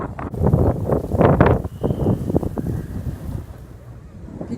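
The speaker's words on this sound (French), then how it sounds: "il y a le vent qui se lève chaque fois" Gusty outdoor wind buffets the microphone in loud, uneven rumbling bursts that ease off toward the end, with no talking.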